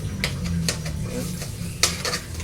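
Onion and garlic being stirred in a pan for a Filipino home-cooked dish, with soft sizzling under a steady clank and scrape of a utensil against metal, a few sharper knocks standing out.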